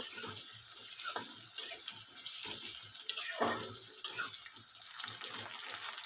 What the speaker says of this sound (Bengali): এবার পেঁয়াজটা খুব ভালো করে ভেজে নেব